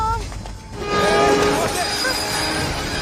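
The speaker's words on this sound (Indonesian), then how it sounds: "Begitu dia balik, keretanya udah jalan, dan Adit pun ketinggalan" Train pulling out of a Jakarta station platform in a cartoon scene, a steady rumbling roll with a horn-like tone rising over it, voices audible in the background.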